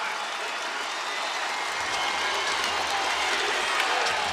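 A basketball arena crowd roars and applauds after a Grizzlies dunk in an NBA game against the Nuggets, a loud, continuous wall of cheering that swells slightly and holds for several seconds without a break.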